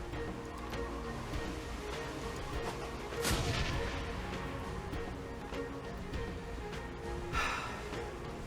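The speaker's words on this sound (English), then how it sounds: "It seems like the best thing to do is just use another grenade." A grenade explodes in the video game Shadowrun: Hong Kong. The burst booms midway through a continuous noisy battle backdrop, and a smaller blast follows later.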